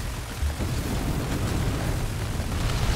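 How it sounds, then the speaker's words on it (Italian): Explosion in the mining game Bore Blasters: a loud, continuous rumbling blast with a deep low-end thump near the start, sustained noisy roar throughout, no speech. "Vai, seguiamo l'esplosione che ci apre una via."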